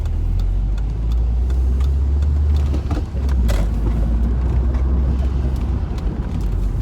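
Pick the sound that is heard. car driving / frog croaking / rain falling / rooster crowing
car driving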